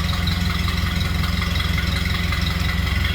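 A 1930 Ford Model A engine idles steadily with a smooth, even low chug, close by and uninterrupted, no talking.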